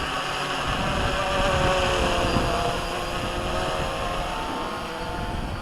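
A WLToys V303 Seeker quadcopter hovers in strong wind, its steady high-pitched rotor whine overlaid by rough gusting wind buffeting the microphone, fairly loud and continuous.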